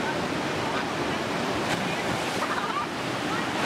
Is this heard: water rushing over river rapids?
yes